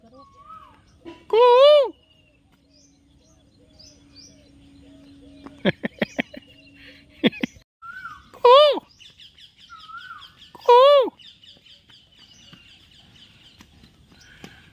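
A koel calls by a riverside, sounding three loud, clear, rising notes spaced several seconds apart against a quiet background with scattered softer clicks and chirps.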